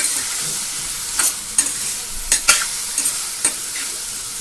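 Small pieces of chopped chayote sauté with onion and tomato in a pan, a soft continuous sizzle with a few brief spatula scrapes and clicks of stirring, close and fairly even.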